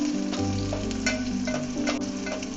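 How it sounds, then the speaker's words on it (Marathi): Onion, curry leaves and garlic frying in hot oil for a Konkan horse gram dish, a steady close sizzle with crackling pops and faint stirring clicks, no talking. "एक कांदा, कढीपत्ता आणि लसूण जेव्हा आपण तेलात टाकतो ना"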